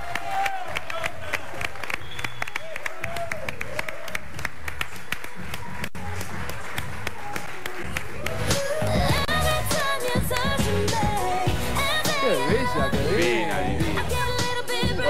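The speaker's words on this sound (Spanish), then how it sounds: "Fuerte aplauso al estudio para Coqui Ramírez." Studio audience applause on a live Latin American late-night entertainment show in 2015, scattered claps at first that swell into fuller clapping with music and voices rising underneath.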